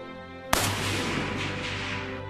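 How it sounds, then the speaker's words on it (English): A single loud shot from an LAH-45 assault rifle with a long-stroke gas system cracks sharply, then a dense broadband roar and echo sustain for about two seconds. "For example, we shot this rifle."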